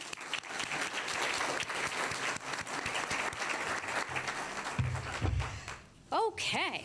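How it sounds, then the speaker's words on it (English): Audience applause at a judge's investiture ceremony, a broad sustained clapping that fades as a voice begins speaking near the end. "Let's give a round of applause to all of those here."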